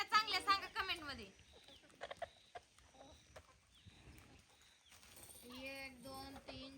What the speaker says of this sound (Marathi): कोंबड्या बघा कशा उकारते ते